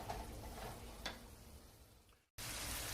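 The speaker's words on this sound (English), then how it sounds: "We're going to just stir this around." Red pepper flakes being stirred in a pan for shrimp scampi, giving a steady close scraping and sizzling texture with one brief clink near the start, then a short cut to silence before the sizzle returns.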